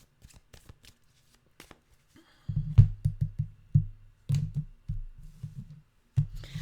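Tarot cards being shuffled close up, a few light card taps and then bursts of riffling and flapping in quick runs, with quiet pauses between them.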